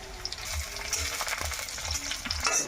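Chopped onion and bay leaf frying in hot oil for a chicken curry, a steady crackling sizzle with small clinks and stirring scrapes, close by and without voices.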